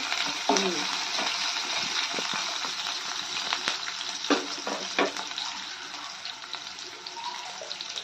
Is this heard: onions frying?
yes